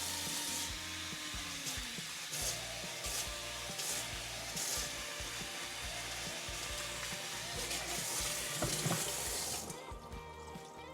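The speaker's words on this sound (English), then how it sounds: "And then we're just gonna go ahead and water it" Water pours steadily from a tap or container onto a moss pole with clear plastic backing and the potted plant beside it, a continuous close splashing and trickling that runs for about ten seconds before easing off at the end.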